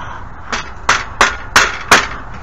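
Claw hammer tapping a shelf back into place, five sharp, loud knocks close by in an uneven rhythm, each one short and crisp with a faint ring.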